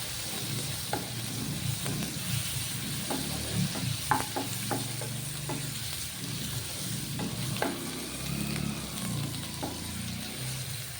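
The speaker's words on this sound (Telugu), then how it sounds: "ఈ మంచిగా వేయగనిద్దాం నూనెలా." Ginger garlic paste and half a teaspoon of turmeric fry in hot oil for a salted fish, egg and tomato curry, giving a steady close sizzle broken by scattered clicks and scrapes of stirring, with no talking.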